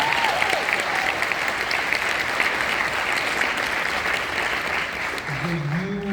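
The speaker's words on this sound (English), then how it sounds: "round of applause for all those musicians" An audience at a film Q&A breaks into sustained applause for the movie's musicians, a dense, even wash of clapping that holds steady throughout, with a voice faintly heard near the end.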